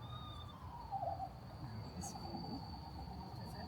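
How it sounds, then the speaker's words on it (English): An eastern screech owl call played back outdoors at a raptor center, a faint wavering trill heard twice over steady insect chirping and low background rumble. "it is in fact the eastern screech owl"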